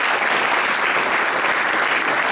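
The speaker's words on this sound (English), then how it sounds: "With a big round of applause" An indoor audience applauds warmly to welcome a speaker at a lecture event, a dense, even wash of clapping sustained throughout without any speech over it.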